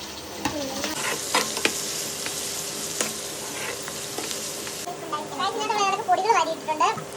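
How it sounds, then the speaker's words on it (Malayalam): Onions and small shallots sizzle and get stirred in a hot pan in a hostel kitchen, a steady frying hiss with scraping stirs, while someone talks over it and children's voices are heard. "ഉള്ളി ചെറിയ ഉള്ളി കൂടെ ഇടാൻ പോവുകയാണ്"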